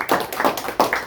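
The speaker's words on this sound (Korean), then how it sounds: "같이 박수로 맞겠습니다" A few sharp, uneven hand claps ring out close by as a guest, a flower shop owner, is welcomed, a brief burst of applause from a small group.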